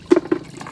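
Freshly gathered sea shells are swished and rinsed in water on Polillo island, two quick close sloshing splashes followed by softer trickling in a brief moment.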